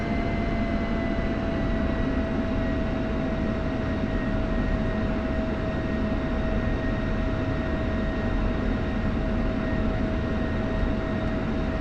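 A steady, loud turbine drone from an F-16 jet engine taxiing in a flight simulator game, constant whine tones over a dense rumble, unbroken for the whole stretch with no talking.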